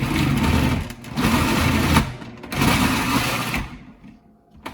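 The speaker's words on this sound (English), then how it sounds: "I'm also using my little Cuisinart here because I'm not too stupid and I don't want to spend a lot of time grating cheese." A Cuisinart food processor grates mozzarella and provolone cheese with a loud, close, steady motor whir and grinding. It runs in bursts that dip briefly twice before winding down near the end, with no voices.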